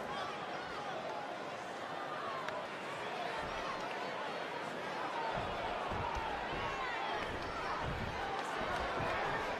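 A sold-out wrestling arena crowd in Worcester before an AEW Rampage show roars in a steady, loud wash of noise, with indistinct voices and scattered thumps and shouts rising from the mass of the audience.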